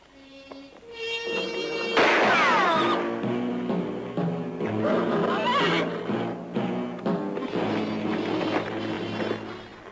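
Several horses neigh and whinny loudly in a Western setting, with a shrill close whinny followed by overlapping calls and restless movement, continuous and busy throughout as the animals are being stolen.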